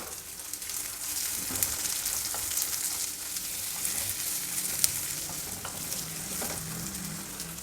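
Two medium chopped onions fry in a pan with bay leaf, cinnamon, clove and cardamom, a steady soft sizzle broken by frequent stirring scrapes and light spoon taps.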